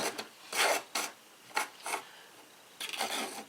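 A Wusthof kitchen knife is drawn across a whetstone with light pressure, making several separate raspy scraping strokes of about half a second each, close up and fairly quiet, with short pauses between them.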